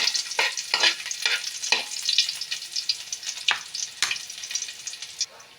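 Onion sautéing in hot oil in a small pan sizzles loudly and unevenly, with sharp crackling bursts and stirring scrapes, close up with no voices.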